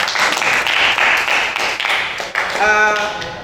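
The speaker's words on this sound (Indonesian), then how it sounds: "Sekali lagi kita beri aplaus" Students in a classroom applaud for a few seconds, a steady patter of many hands clapping together that fades out near the end.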